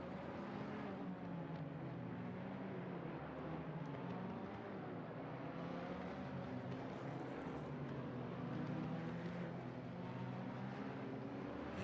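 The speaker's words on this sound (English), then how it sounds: "You really do have to love the sound of all of those engines getting revved up, getting ready for the race." Race car engines drone and rev together on the starting grid at Monza in the Assetto Corsa Competizione racing game, a dense, continuous mechanical roar that stays loud and steady throughout.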